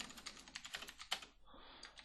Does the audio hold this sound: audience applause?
no